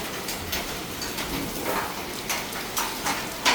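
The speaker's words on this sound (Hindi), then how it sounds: "आए बहुत ज़्यादा ओले हैं।" Hail strikes a door with scattered sharp ticks and taps, irregular and fairly close, over a steady wash of rain.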